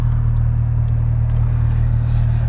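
Car engine idling while warming up, a steady low rumbling hum, close and constant, with no speech.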